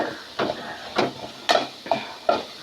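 A spoon stirs a pan of beans and carrot with coconut paste, salt and coconut oil, giving about five separate scraping, lightly sizzling strokes at a steady rhythm, close and moderately loud with no talk.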